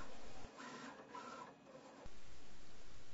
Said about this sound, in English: CAMM-1 machines have been used commercially for cutting self-adhesive vinyl